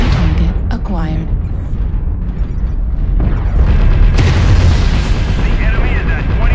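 An air strike detonates in a combat video game, loud booming explosions and heavy rumbling impacts that keep up a dense, powerful roar, with a voice speaking over the blasts.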